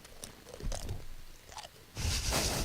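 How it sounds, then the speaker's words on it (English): Crunchy Fritos corn chips being chewed up close, a run of irregular crisp crunches and bites that grows louder and denser toward the end, with no talking. "Let's hear that crunch."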